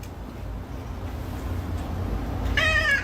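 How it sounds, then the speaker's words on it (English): A cat gives one clear meow near the end, close and distinct over low background rumble. "If you're happy and you know it, say meow."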